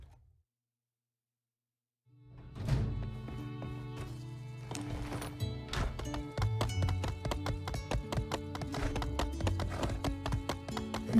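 Horse hooves clip-clop steadily in My Time at Sandrock, starting after a brief silence and continuing under busy game music and ambient effects, close and moderately loud.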